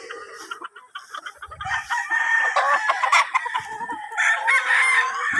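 A fighting-cock stag crows on a farm, one loud close crow followed by clucking and more fowl calls from other birds nearby.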